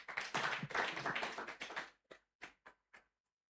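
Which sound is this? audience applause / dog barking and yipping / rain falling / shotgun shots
audience applause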